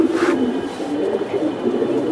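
Giribaz pigeon cooing, a low steady throaty murmur close by that continues through the short moment with no talking.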